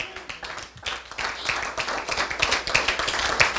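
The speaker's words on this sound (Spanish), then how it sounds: "¿Pueden dar un aplauso al Señor?" Clapping from a church congregation during a Spanish-language worship service, a crowd of hands building from scattered claps into fuller, steady applause, moderately distant in a reverberant hall.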